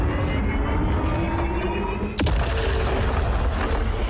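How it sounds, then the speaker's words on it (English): In the video game Somerville, a weapon fires at the player as a single sudden loud blast over a steady rumbling background, with a brief ringing decay afterward. "Oh, it's shooting us!"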